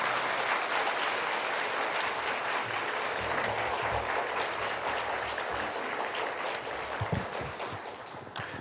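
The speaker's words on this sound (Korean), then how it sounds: "박수 합시다" A church congregation claps to welcome a new pastor to the pulpit for his first sermon, a long, thick wash of sustained applause holding steady before thinning slightly near the end.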